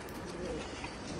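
Pigeons brought from Andhra Pradesh coo softly and steadily, the low murmuring of several birds blending into one close, continuous hum with no pauses.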